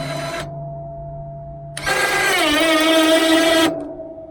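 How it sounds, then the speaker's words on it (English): An ATV winch lets out cable to lower a snow plow, giving a steady tonal hum that stops abruptly, then after a pause a loud rising mechanical whine that runs for about two seconds before cutting off. "we let the winch out, and then it just drops like that to go in"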